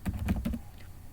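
Computer keyboard typing a command on a Linux Xubuntu machine, a brief quick cluster of a few soft key clicks, close and quiet.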